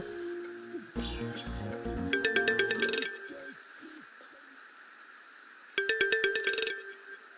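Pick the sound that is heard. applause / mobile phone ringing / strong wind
mobile phone ringing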